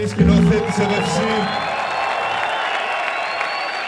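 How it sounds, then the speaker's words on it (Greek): An audience at a live concert tribute in the Faliro Summer Theater gives a short burst of applause and cheering that fades into a steady, moderate clapping wash. "Ένα χειροκρότημα στο Δημήτρη Μετσούκη, σκηνοθέτης ΕΒΕΦΣΥ."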